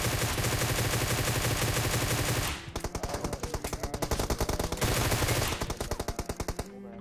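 Sustained machine-gun fire rattles through a PUBG Mobile match, dense rapid bursts at close range with brief pauses between volleys, loud and continuous with no talk.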